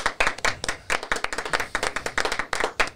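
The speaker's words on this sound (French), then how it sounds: "On applaudit" A few people clap together in a small radio or podcast studio, close and distinct, the claps landing in an uneven rhythm for a few seconds with no talk over them.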